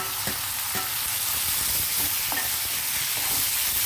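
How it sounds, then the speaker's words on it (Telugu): Radish, carrot, tomato and green chilli frying in a pan with onions, a loud continuous sizzle broken by several sharp stirring scrapes and clinks, with no talking. "ఇప్పుడు మనం ముల్లంగి, క్యారెట్, ఇది టమాటా కలిపి వేసేస్తున్నాం."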